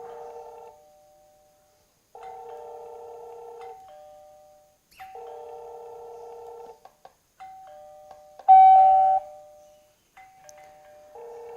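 A Yoosee wireless doorbell chime receiver indoors plays its short electronic melody again and again, clear tonal ding-dong phrases separated by brief pauses, with one louder, sharper chime near the end and no voices.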